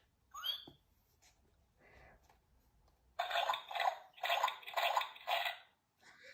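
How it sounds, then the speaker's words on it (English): Quiet squeaks and a small splash, then a run of loud, repeated splashes and sloshing as cartoon characters jump in muddy puddles, close by, tapering off at the end. "Everyone is having a wonderful, noisy time jumping and splashing."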